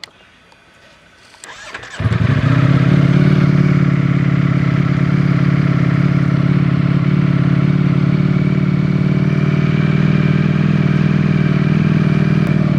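A brand-new, zero-mile Ducati Desmosedici RR engine catches on its first start and settles into a steady, loud idle, a continuous mid-pitched rumble running on without change.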